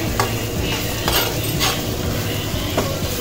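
Pepper mutton curry being stirred in a clay pot, a steady scraping and clinking of a spoon against the pot over a soft sizzle, with a few sharper knocks along the way.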